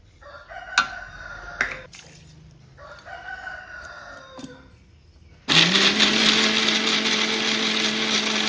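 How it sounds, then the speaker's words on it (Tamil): A mixer grinder grinds coconut with soaked cashews and almonds, starting abruptly with a loud, steady, high whirring drone after a stretch of rooster crowing and clucking. "பயிறு, பாதாம் பயிறு, தேங்காயும் போட்டு அரைச்சிக்கிறேன்"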